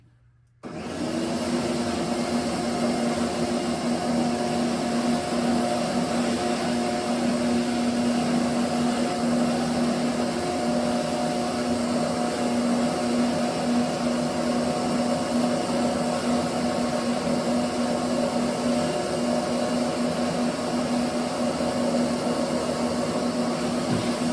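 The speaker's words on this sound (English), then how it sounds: "take a vacuum up as much dust as you can first" A vacuum cleaner switches on and runs steadily at close range, sucking up dust from a rusted Ford Mustang II roof before painting, a loud constant whine with a low hum, with no voices over it.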